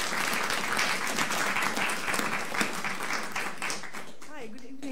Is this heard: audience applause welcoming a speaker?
yes